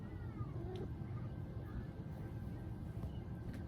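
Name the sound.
kitten meowing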